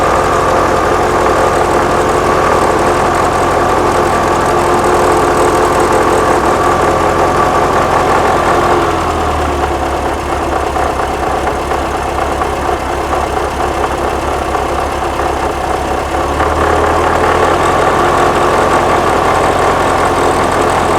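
A fuel-injected 1979 VW Super Beetle engine idles steadily and loud, a continuous low rumble whose pitch drops and settles midway as the warm-up idle comes down, then rises again near the end.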